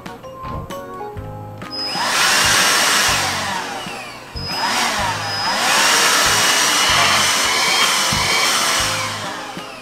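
A budget Titan Power vacuum cleaner with a charging stand whirs up twice to a loud, high-pitched motor whine, with a brief dip between the runs before it winds down.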